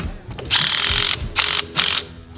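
Brake assembly bolts on an Airstream trailer axle are cinched down, giving three loud, close bursts of ratcheting with short gaps between them.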